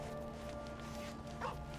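A dog barks once, briefly, near the end of a short stretch of video game audio, over a steady background hum.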